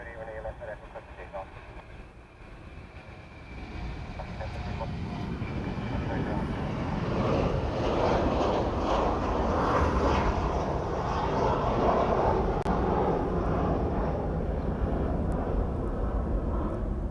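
A Hawaiian Airlines airliner, flight 1078 bound for Kona, departs Honolulu with a roar that swells from a distant rumble into a loud, sustained broadband engine wash, partly under talk.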